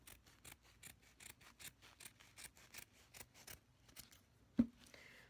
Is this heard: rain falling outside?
no